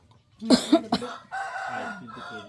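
A rooster crows once, close and fairly loud, its drawn-out call following a couple of short clucks or sharp noises, with no talking in the moment.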